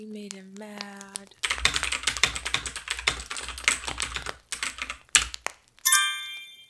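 Loud, rapid clacking of a computer keyboard fills several seconds in an office holiday party setting, fast irregular keystrokes with brief pauses, bracketed by short electronic chimes and tones at the start and end.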